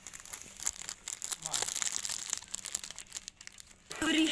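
A packet of lawn grass seeds being torn open: crinkly, crackling plastic rustles and tearing, close and irregular, with a voice speaking briefly near the end.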